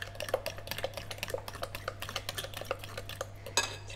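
Muffin ingredients for gluten-free chocolate chip muffins are mixed together in a bowl, producing a steady rhythm of quick clinking and tapping strokes of a utensil against the bowl over a low constant hum.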